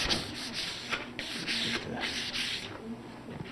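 Sanding the corners of the binding on a replica 1964 Gibson ES-335 guitar in a workshop: repeated short, close rubbing strokes in a steady back-and-forth rhythm, with no talking.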